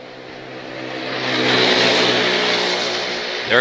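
A racing kart engine at a kart race approaches and passes close by, its buzzing whine swelling to a loud peak and then fading slightly.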